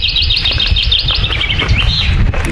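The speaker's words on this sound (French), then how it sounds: "Avec les oiseaux et tout là." Many small birds chirp and tweet continuously in quick overlapping calls along a mountain hiking trail near Boëge, with a steady low rumble of wind or footsteps underneath and no talking.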